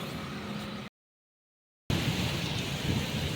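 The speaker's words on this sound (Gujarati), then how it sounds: "ઘરની બહાર પોઈગનો વરસાદ શરૂ થઈ ગયો." Heavy rain beginning to pour outside a house, a dense continuous hiss that drops out entirely for about a second in the middle, then comes back louder and fuller.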